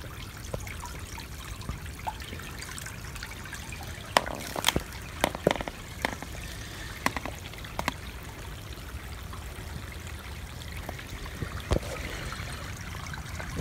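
Someone walks across a partly frozen stream while water trickles steadily close by, with scattered sharp cracks and crunches of footsteps on ice.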